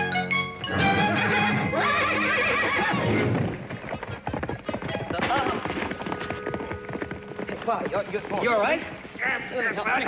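Horse whinnying loudly in a Western ranch setting, joined by clip-clopping hooves, with busy action and voices speaking over the sounds throughout.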